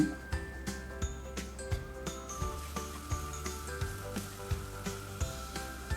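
A spice paste of ginger and garlic sizzles gently in oil for a Bengali mutton curry, with soft, even crackling close by. Light clinks and taps from a utensil against the pan come through at intervals.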